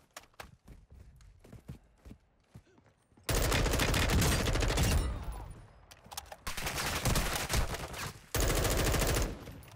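Gunfire in the Warzone 2 video game on Ashika Island, first scattered single shots, then long loud sustained automatic bursts with short pauses between, dense and close.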